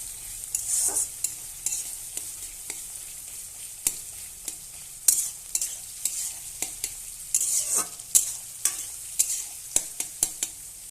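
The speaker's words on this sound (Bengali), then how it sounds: "এবার আমি ভালোভাবে একটু পেঁয়াজটাকে ভেজে নেব" Onions fry with bay leaf and green chillies in a pan for chicken kosha, a bright crackling sizzle broken by repeated close scrapes and taps of a spatula stirring them.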